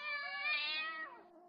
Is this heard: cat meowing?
yes